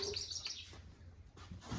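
Pigeons are heard as faint, brief chirps and calls against quiet background noise.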